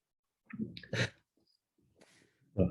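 A single close, quiet sneeze with a sharp inhale beforehand, followed by soft breathing and the start of another sneeze.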